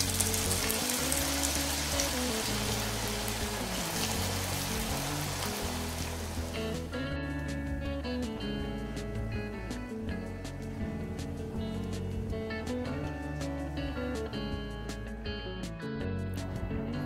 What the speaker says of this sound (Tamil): இந்த மாதிரி எண்ணெயில சிப்ஸ் நம்ம போட்ட சிப்ஸ் நல்லா வெந்து கிறிஸ்பி ஆன உடனே அந்த நொற அடங்கினதும் எடுத்துடலாம்